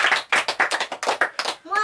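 Children's choir and congregation clapping hands at a gospel church service, a run of sharp rhythmic claps in steady bursts, close and fairly loud, with a voice singing or speaking over the last moment.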